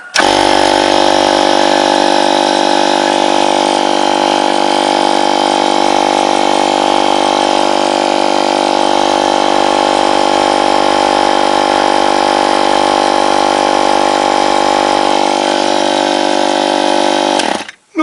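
Echo RSM 222 ES brushcutter's two-stroke engine running steadily at a constant idle-like speed throughout, loud and close, with a dense whining buzz that cuts off abruptly at the end.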